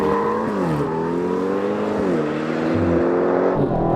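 An Aston Martin launches from a standstill in a drag race, its engine note climbing steadily with short dips at gear changes, loud and close throughout.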